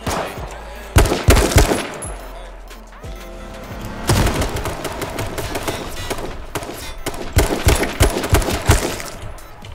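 Bursts of rapid gunfire in the battle royale video game H1Z1, loud and close, with sharp automatic volleys and single shots scattered across the stretch and brief voices heard between them.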